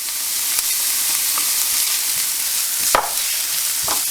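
Peppers sizzle in a frying pan with onion and garlic, a steady hiss with a few stirring clatters and no talking.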